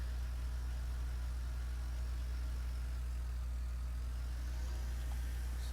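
Steady low engine drone of a Russian tractor idling in Farming Simulator 17, a constant rumble with no voices over it.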